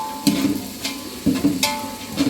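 Chopped onions frying in a pan for a pulao, with soft sizzling and a few stirring scrapes at regular intervals, close and moderately loud, no talk.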